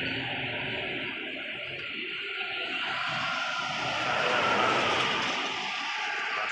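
The Putra Remaja passenger train rolling past on the line, producing a broad continuous rumble and hiss that swells a little toward the middle, sustained and moderately loud throughout.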